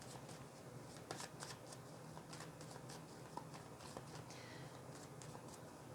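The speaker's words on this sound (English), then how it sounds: "I'm going to be pulling some Chakra Wisdom Oracle cards here." Chakra Wisdom Oracle cards being shuffled and drawn, a steady soft riffling patter with brief slaps of cards throughout, fairly close and unaccompanied by speech.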